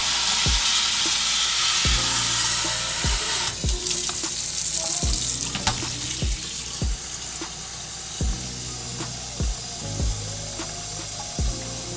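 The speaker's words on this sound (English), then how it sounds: "So you gotta rinse all of it off." Tap water running steadily into a sink while potatoes are rinsed under it, with repeated sharp knocks and clatters of the potatoes against the sink at a regular pace, close by and loud.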